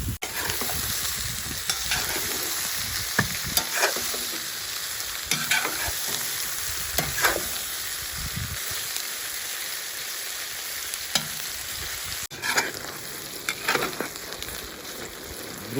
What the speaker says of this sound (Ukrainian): Продовжуємо жарити на великому огні.